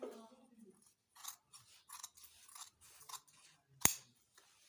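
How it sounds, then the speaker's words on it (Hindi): Scissors cut away extra fabric from a trouser, a series of quiet, close snips in an otherwise silent room, ending in one sharp, louder clip. "इसकी सिलाई काट के एक्स्ट्रा मैं काट देती हूँ"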